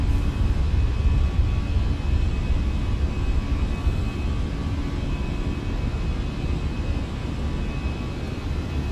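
Airliner taking off in the Vatsim flight simulator from Bristol, a steady loud roar of jet engines with broad rushing noise holding constant, no talk.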